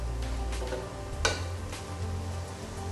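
Onions and beef sizzle in a frying pan while being stirred. A continuous close fry carries scraping strokes, including one sharper scrape of the utensil against the pan partway through.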